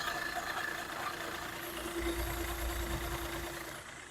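A Hyundai diesel car idles with the microphone held close to the engine, giving a steady low rumble with a faint mechanical whine that fades slightly at the end.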